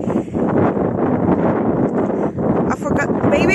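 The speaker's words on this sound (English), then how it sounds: "It's very, very sunny, but it's very cold and windy today." Strong wind buffets the microphone on a cold, bright, sunny walk at Curbar Edge. The gusts roar as a steady, loud rush that swells and dips throughout.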